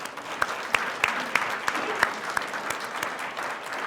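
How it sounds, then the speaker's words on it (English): An audience applauding Phil at a caregivers' event, a steady wash of many hands clapping at moderate volume, with a few sharper individual claps standing out above the crowd. "So let's give Phil another round of applause."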